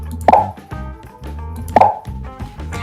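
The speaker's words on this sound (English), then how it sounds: "If you play it, it's just a little pop." Scratch 3.0 pop sound effect: two short, bright pops heard close and clear, each followed by softer clicks, with no talk over them.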